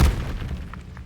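Incendio fire spell cast in the Hogwarts Legacy video game: a single deep booming burst at the start that fades into a low rumbling tail.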